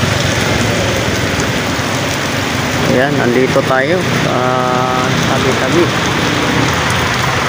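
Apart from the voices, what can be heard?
heavy rain pouring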